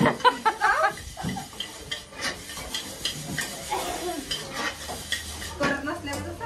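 Pots, pans and dishes are handled and clattered close by during cleanup, with a steady run of clinks, scrapes and knocks and a hissing wash underneath, plus faint background voices.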